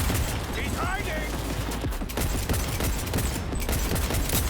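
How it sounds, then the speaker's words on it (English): Dense gunfire in a Cyberpunk 2077 firefight, loud overlapping bursts rattling steadily across the scene with voices mixed in underneath. "He's hit! He's firing!"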